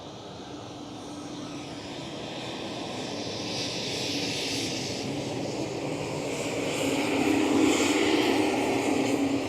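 A KLM Cityhopper Embraer E190 taxis at Amsterdam Schiphol, its jet engines a steady whine and rumble that grows gradually louder as it nears.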